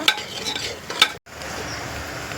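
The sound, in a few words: spice paste frying in oil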